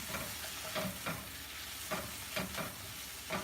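Lamb liver fries for adobo in a pan, a steady sizzle broken by repeated scraping stirs at a roughly even rhythm, close and moderately quiet with no talking.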